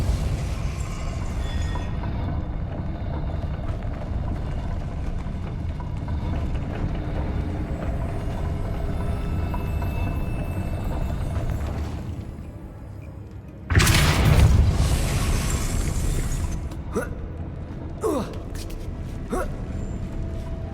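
A Depulso force spell cast in Hogwarts Legacy: a sudden loud whooshing blast that bursts out of a steady ambient drone, followed by a few fainter sharp impacts.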